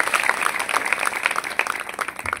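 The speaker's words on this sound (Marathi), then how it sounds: "आता 5वी टाळी वाजवायची, ती टाळी म्हणजे आमच्या सर्व भजनी मंडळ आणि तरुण मंडळीसाठी जोरदार." An audience at a devotional Shiv Mahapuran katha gathering in Gopalpur claps loudly and steadily, a dense continuous burst of applause from a large crowd, close and without speech.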